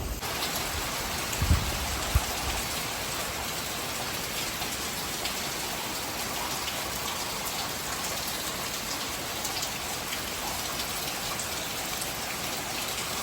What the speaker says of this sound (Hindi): बहुत ज़ोरों से बारिश चालू हो रही है अभी।